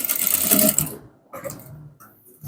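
A sewing machine runs a short burst of stitching along the edge of a trouser lining, a close, steady mechanical whir that stops abruptly, followed by a few quiet handling sounds.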